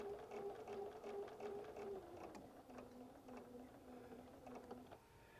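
A home sewing machine stitches a curved quilt seam in a beginners' appliqué lesson, its motor humming in steady, near bursts with brief pauses and rhythmic mechanical ticking.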